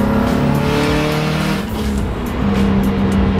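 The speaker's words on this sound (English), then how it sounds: "The wastegate noises now." A 500 hp turbocharged Subaru STI with no interior drives along, its engine droning loudly up close with rising and falling tones and whooshing wastegate bursts over constant road noise.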